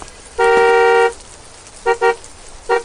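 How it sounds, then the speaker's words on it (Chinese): A car horn honks repeatedly, starting with one long loud blast, then two short double toots, each sharp and close with quiet gaps between them. "你先去车上给我狂按连下喇叭"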